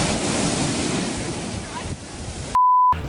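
Ocean waves surge and roll with loud, rushing surf and wind buffeting the microphone, cut off near the end by a short steady electronic beep.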